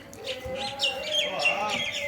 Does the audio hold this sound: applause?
no